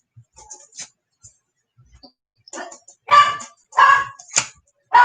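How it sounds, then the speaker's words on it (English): A dog barks in several short bursts, the first ones faint and scattered, then louder and closer near the end, with brief gaps of near silence in between. "My dog is barking like crazy."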